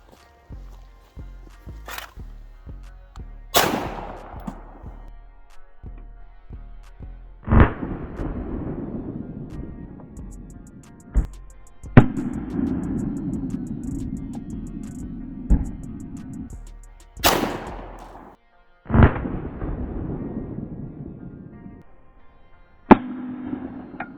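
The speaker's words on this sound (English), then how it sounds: "We got a 22 Magnum, couple rounds. Let's try that." Several .22 Magnum rounds fired outdoors, sharp loud cracks spaced seconds apart, each trailing off in a rolling echo, with low voices and handling noise between shots.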